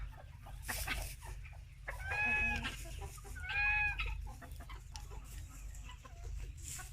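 Several chickens, laying hens among them, cluck and murmur nearby, with two brief harmonic calls standing out over a low steady hum.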